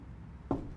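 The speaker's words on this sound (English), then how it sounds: "I think I hear someone knocking." Two sharp knocks on a door, faint and spaced about a quarter second apart, following a quiet stretch of room tone.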